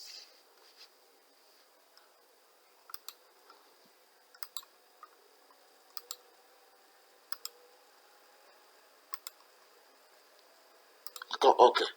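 Faint computer mouse clicks, often in quick pairs, spaced a second or two apart in a quiet room while operating ProtaStructure design software, with a brief louder burst of noise at the very end.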